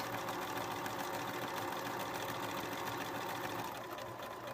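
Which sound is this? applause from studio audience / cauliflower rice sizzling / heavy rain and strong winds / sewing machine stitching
sewing machine stitching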